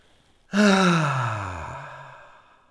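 A person takes one deep breath and lets it out as a single long, voiced sigh, close and clear, starting abruptly and fading over about two seconds in a quiet room.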